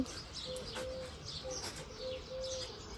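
Birds on a house roof call and coo outdoors in short repeated phrases, with light chirps scattered over a steady background hiss.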